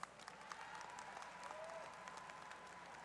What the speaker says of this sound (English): Y'all, please give your faculty a round of applause.